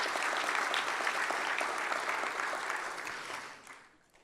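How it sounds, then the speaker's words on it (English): Sustained applause from a dinner audience at the Ronald Reagan Award Dinner, dense, steady clapping from many hands at moderate distance, holding evenly before tapering off over the final second, with no voices over it. "they deserve a big round of applause for the tireless hours they spend in the governor's office."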